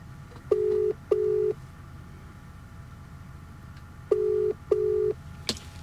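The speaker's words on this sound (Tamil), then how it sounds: "ஃபோன் போகுது." Outgoing phone call ringback tone: four steady electronic beeps in two pairs, evenly spaced with a long gap between pairs, over faint background hum and no talk.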